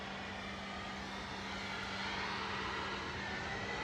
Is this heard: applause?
no